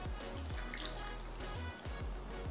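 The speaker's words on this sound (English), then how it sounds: "And then I'm going to add 1/4 cup of vinegar." A quarter cup of vinegar poured into a container of garlic paste ingredients with olive oil, a faint, steady liquid trickle with soft drips and no talking.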